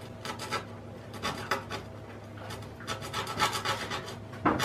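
A round #1 handplane iron is sharpened with short back-and-forth strokes, giving a steady, close, gritty rasping in a quick rhythm, with a faint hum beneath.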